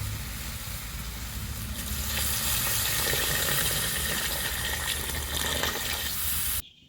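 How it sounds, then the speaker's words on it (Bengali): Water pours into a pan of spiced potatoes frying in a village-style Bengali kitchen, a splashing gush that swells into a louder sizzling hiss before cutting off abruptly near the end. "এবার দেবো জল"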